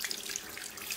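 Tap water runs steadily into a sink while hands are rinsed off, a faint, even hiss and splash close by with no voices.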